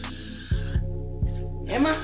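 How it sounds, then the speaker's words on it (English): A short hiss of It's Gotta Be hairspray from an aerosol can, then quiet, with a few soft taps and a louder rustle at the end. "So I'm using a little bit of It's Gotta Be spray."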